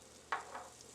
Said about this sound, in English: in goes 3 tablespoons of unsalted butter